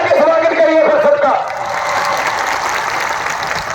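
A crowd applauds at a political rally in Netrang, Gujarat, with two party leaders. Someone speaks briefly over a loudspeaker, then a broad, steady wash of clapping follows.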